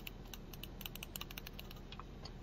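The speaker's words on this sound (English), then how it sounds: "They can't deal with the clicking of a mouse." Computer mouse buttons, a trackball mouse, clicked in quick irregular bursts, crisp and close but faint against a quiet background, with no talking.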